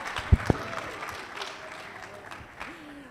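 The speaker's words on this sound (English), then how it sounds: "Give me a round of applause." An audience at a conference session gives a round of applause, moderate and fairly distant clapping with a couple of sharp thumps at the start and a voice faintly heard near the end.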